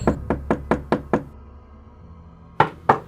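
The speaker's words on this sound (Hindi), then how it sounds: "तभी किसी ने अचानक मेरे कमरे की खिड़की खटखटाई।" Someone knocks on a bedroom window at night as a horror story effect: a quick run of six close, crisp raps, a pause in near silence, then two louder, sharper knocks.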